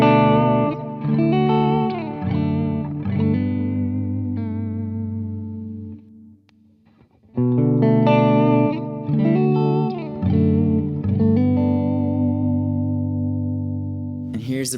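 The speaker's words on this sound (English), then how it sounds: "Let's add some reverb from the Walrus Audio R1." Electric guitar on its middle pickup through a Walrus Audio R1 reverb, played as sustained chords and picked notes with a lush reverb tail, a brief near-silent gap midway, then more ringing chords, loud and alone.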